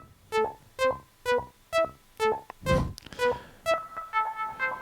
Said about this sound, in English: It's the Oberheim Matrix 6.